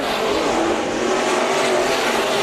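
IMCA Modified race cars roar through a heat race at Bakersfield Speedway, a dense, steady wall of engine noise from close by with no voices over it.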